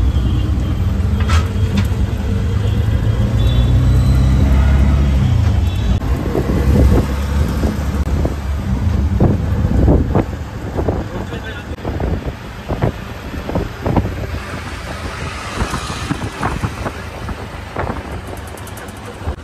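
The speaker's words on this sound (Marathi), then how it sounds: "बायपासला बघा किती ट्रॉफिक लागले" Slow, jammed traffic on a bypass road, heard from inside a vehicle: a loud, continuous rumble of engines with heavy wind buffeting on the microphone and a few faint, muffled voices.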